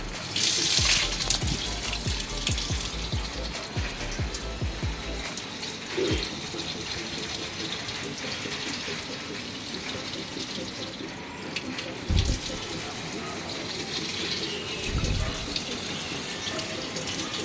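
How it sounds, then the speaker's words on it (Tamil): A low-cost shower booster pump pushes water out under pressure in a steady, loud gushing rush like a running tap, with a low hum and a few brief knocks early on. "இப்போ உங்களுக்கு நல்ல ப்ரெஷராக வந்து தண்ணி அடிச்சிட்ருக்கு."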